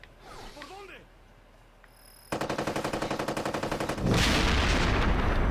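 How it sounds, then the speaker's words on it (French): Rapid video game gunfire rattles in a steady burst in Ghost Recon Advanced Warfighter, then a loud booming explosion rolls in, following a brief stretch of voice with a faint background hum. "Il y a vraiment des très belles explosions."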